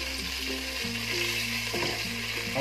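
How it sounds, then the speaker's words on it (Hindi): Ground ginger, garlic, onion and green chili masala fries in hot oil with a steady, close sizzle. A low hum sits under it, and there are faint stirring sounds. "हमने ऑयल गरम कर लिया है। अब हम इसको मसाले को भूनेंगे।"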